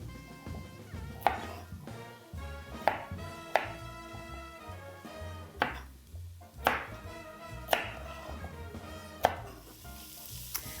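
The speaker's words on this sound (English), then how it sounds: "While I'm cutting the carrots" A knife chops carrots on a cutting board, with sharp, evenly spaced strikes roughly every second, close and distinct over faint kitchen background.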